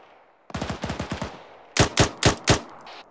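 Gunfire in an Arma 3 military op video game: a rapid burst of about seven close automatic shots, a short pause, then four heavier, louder spaced shots, with no talking.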